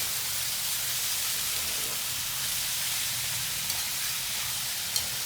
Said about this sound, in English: Right, now we get the beef there. Stir fry this to goodness.